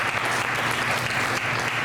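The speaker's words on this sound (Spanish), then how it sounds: "Denle un aplauso al Señor." Audience applause at a church gathering, a steady dense wash of clapping that stays loud and even from start to finish.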